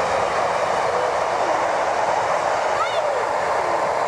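A Virgin passenger train passing close by with a loud, continuous rail roar and brief high wheel squeals, voices faint beneath.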